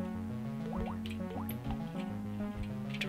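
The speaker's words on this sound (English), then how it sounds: "The treasure pickup sound is so strange though," A video game treasure pickup effect resembling drops falling into water: a few quick, bright bloops and rising plinks rippling over steady background music, with no voices present.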